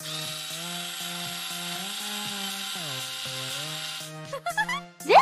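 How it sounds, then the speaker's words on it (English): A power drill whirs steadily and fairly loudly, its pitch dipping briefly a few times under load, then cuts off into a few short sharp bursts at the end. "Carrie, bring in the drill!"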